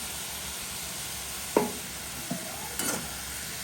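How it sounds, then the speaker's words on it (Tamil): Snake gourd with grated coconut and turmeric is stirred in a pan, village style, a low steady sizzle with a few brief scraping strokes of a spoon, fairly quiet and without speech. "தேங்காய் பூவையும் மஞ்சளையும் சேர்த்து கலந்து போட்டு உள்ள போடுறோம்"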